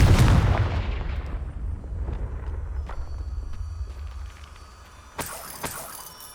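A Confringo blasting spell going off in the Hogwarts Legacy game: one loud, close explosive boom that rumbles and decays over several seconds, then a couple of sharper cracks near the end.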